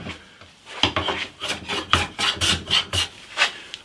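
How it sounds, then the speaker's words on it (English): A hand plane takes strokes across wood on a classical guitar body. There are about a dozen close, rasping scrapes in an uneven rhythm with no talk. "I'm planing this level"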